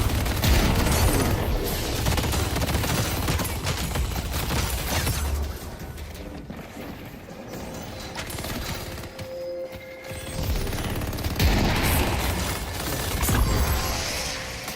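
Dense gunfire in the hero shooter game Deadlock, sustained volleys of rapid shots and mechanical clatter, loud and close, easing briefly in the middle before heavy firing resumes.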